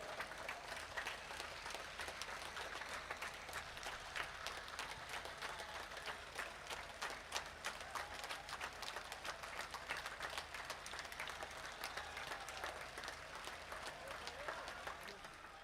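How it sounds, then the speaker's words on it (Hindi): An audience at an election campaign rally in Nawanshahr, Punjab, applauds steadily to welcome a political leader, a dense continuous patter of many hands, moderately distant and even in level. "लोकप्रिय नेता आदरणीय बहन कुमारी मायावती जी का पंजाब की धरती पर पहुंचने पर तालियों के साथ स्वागत करने का काम करें"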